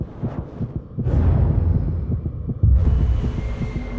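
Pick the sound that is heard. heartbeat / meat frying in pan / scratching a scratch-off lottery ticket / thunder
heartbeat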